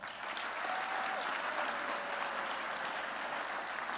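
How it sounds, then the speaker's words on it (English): Steady applause from an audience at a high school athletes' signing ceremony fills the room, evenly sustained with no breaks and no voice over it. "Give them all a round of applause."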